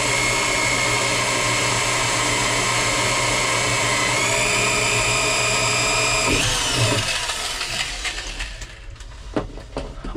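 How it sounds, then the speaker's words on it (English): A small right-angle drill whines steadily at a high, even pitch with a slight shift partway through, then winds down and stops, leaving a few scattered clunks. "this little right angle drill is handy"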